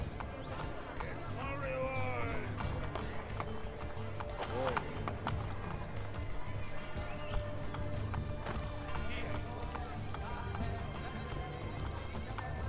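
Horse galloping in the video game Assassin's Creed Brotherhood, steady rapid clip-clop hoofbeats with a whinny, continuous under someone talking over the gameplay.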